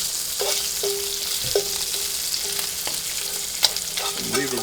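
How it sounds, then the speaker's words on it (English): Bacon sizzles steadily in a pan while being stirred, with a utensil scraping and clinking at intervals over the constant frying hiss, close by and with no talk. "Continuing to cook my bacon as we're cooking our grits. I want to get our bacon good and crispy."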